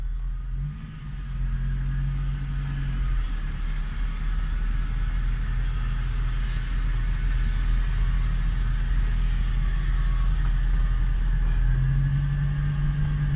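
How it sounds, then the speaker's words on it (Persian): Heavy trucks and tankers run at a truck garage in Hamadan, Iran, during a drivers' strike, giving a steady, close, low engine rumble with occasional revving swells and no voices. "همه جور ماشینی اینجا میاد، تانک، کپی، کمپرسی."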